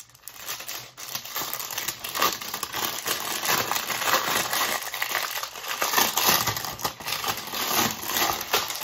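Plastic wrapping on a package of modeling clay crinkles and crackles continuously at close range as it is pulled open, busy irregular rustling for several seconds with no talk.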